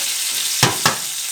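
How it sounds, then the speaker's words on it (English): Seasoned pork chops sizzling on a BBQ grill, a steady bright hiss with two sharp bursts as the meat lands, loud and close with no voices. "So I'm just gonna put these on the grill."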